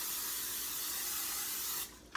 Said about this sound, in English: we need to spray the crock pot